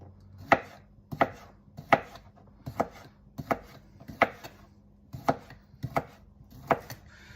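A knife chops chorizo on a cutting board for jambalaya in about eleven crisp, evenly spaced thuds, close up with no talking.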